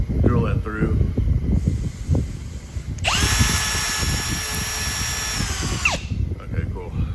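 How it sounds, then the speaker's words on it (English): A power drill bores through a part during PM932 assembly, its loud, steady whine running for about three seconds between stretches of people talking. "Drill that through."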